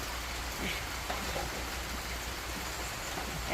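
Rain falling over a garden in the countryside, a steady even hiss of drops on leaves and surfaces, continuous and moderately soft with no break.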